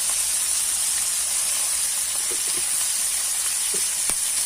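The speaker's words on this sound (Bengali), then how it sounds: "আমি এখন দিয়ে দিলাম চিংড়ি মাছ।" Prawns hiss and sizzle steadily in hot mustard oil, a loud continuous frying noise with a few faint pops and clicks.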